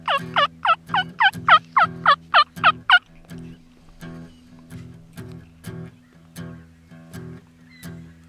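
A wild turkey hen gives a quick rapid series of about ten sharp yelping calls, then the calls stop, leaving softer scattered sounds over a low hum.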